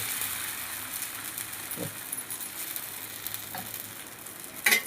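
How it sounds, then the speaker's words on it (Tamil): Drumstick-leaf dosa batter spread on a hot pan, giving a steady close hiss of sizzling that runs throughout, with a couple of faint soft knocks and a brief louder scrape near the end, no voices. "அடுத்தது நம்ம வந்து தோசை ஊற்றிடலாம் தோசை ஊற்ற போகிறோம் முருங்கை தோசை"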